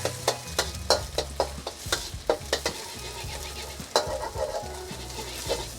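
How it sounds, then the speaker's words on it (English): Eggs scrambled in a pan while making beef fried rice from leftovers, a steady sizzle under rapid, close utensil taps and scrapes in a busy rhythm, easing slightly toward the end. "scramble the eggs"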